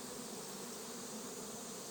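Native Korean honeybees form a steady, dense hum that fills the air like a close swarm, even and unbroken throughout.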